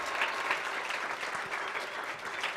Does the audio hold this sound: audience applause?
yes